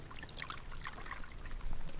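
Coffee pours into a cup as a radio drama sound effect, a soft trickling liquid stream that grows a little louder toward the end, faint and alone.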